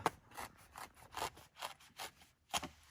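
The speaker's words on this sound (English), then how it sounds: "cutting through hard material like this is rather tough at this point" A Microtech Socom Alpha Mini knife saws through hard material in about seven close, rasping back-and-forth strokes, fairly quiet and evenly paced.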